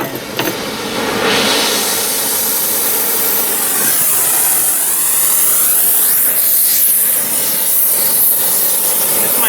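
A gas torch with a heating tip roaring steadily and loudly as it heats a 1944 flywheel to remove the ring gear, with a continuous close hiss and no talk.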